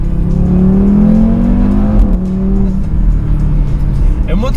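An Audi RS3 ABT with a 460 hp turbocharged five-cylinder engine revs loudly up close, its deep warbling tone rising and falling with a gear-change dip midway, with a brief voice near the end.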